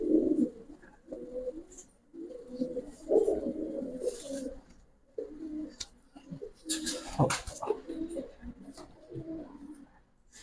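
Giribaz pigeons coo in repeated low, throaty phrases close by, mixed with someone talking over them and a few sharper rustles or flaps.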